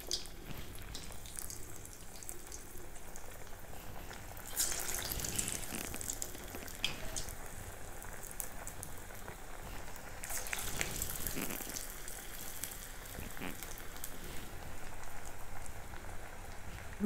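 Small pieces of paruppu vadai lentil batter frying in hot oil, a steady soft sizzle and bubbling with brief louder crackling bursts, no talking.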